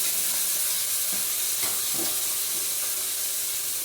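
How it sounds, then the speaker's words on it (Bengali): Salted hilsa fish pieces fry with salt and turmeric in a pan, giving a steady close sizzle and hiss with a few soft stirring scrapes and no talk. "যে নোনা ইলিশের পিসগুলি কেটে রেখেছি, আগে এইগুলো একটু ভেজে তুলে নেব।"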